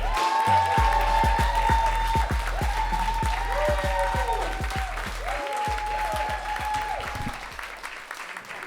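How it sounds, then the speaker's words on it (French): A comedy-show audience applauds comedian Xavier Boisrond, sustained clapping and cheering heard at a distance, with low rumbling tones and a voice threading through before the applause thins out near the end. "Un tonnerre d'applaudissements pour Xavier Boiron!"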